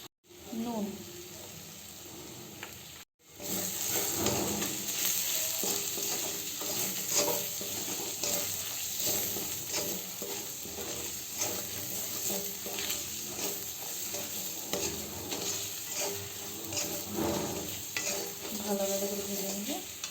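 Ground turmeric, Kashmiri chilli, cumin, coriander, garam masala and salt fry in a pan for dhaba-style rajma masala; a steady close sizzle with frequent stirring scrapes resumes after a brief silent break near the start.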